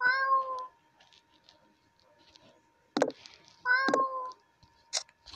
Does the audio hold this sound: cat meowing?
yes